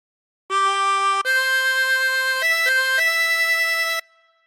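A 16-hole tremolo harmonica plays a short Amazing Grace phrase alone: a few sustained, reedy held notes with clear pitch steps between them, steady and close, then fading out.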